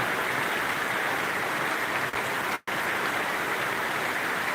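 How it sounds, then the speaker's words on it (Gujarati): A heavy downpour drums steadily outdoors in a village in Dhanera taluka. The dense, loud rain hiss runs unbroken apart from a split-second dropout. "તમે જોઈ શકો છો વરસાદ ધુઆધાર પડે છે"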